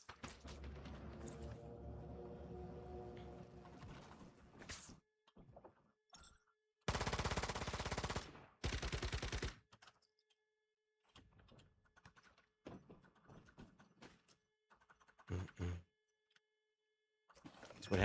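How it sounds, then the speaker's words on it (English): Sniper rifles firing in the survival shooter Once Human, heard as a few loud, dense bursts of gunfire in the middle of the clip. A voice talks before them and quieter game sounds follow. "That's what happens when 5 snipers shoot you in the face at the same time."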